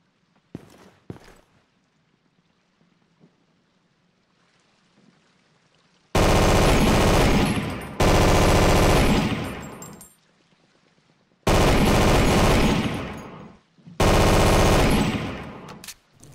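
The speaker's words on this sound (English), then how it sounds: "And that's an MG42 I can see there." An MG42 machine gun fires in the WW2 game Forgotten Hope 2, four long roaring bursts of dense rapid fire, very loud and close, after a few quieter clicks and thumps.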